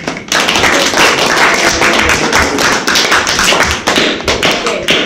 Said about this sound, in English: So please give applause to these three best students, Winston, Michelle, and Anglitu.